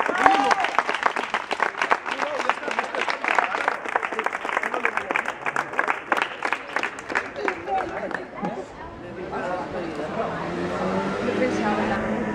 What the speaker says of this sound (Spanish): Por lo menos merezco un aplauso